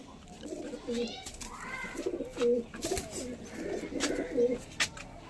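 Tournament racing pigeons at a home loft cooing in repeated low, throaty phrases, several soft bursts close by with brief higher rustles between them.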